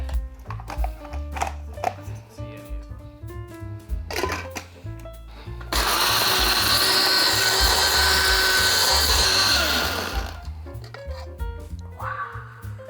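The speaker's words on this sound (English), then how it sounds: "we're gonna grind them." An electric grinder blitzes dried prawns into powder, a loud continuous whirring roar of about four seconds, framed by background music and occasional clatter before and after.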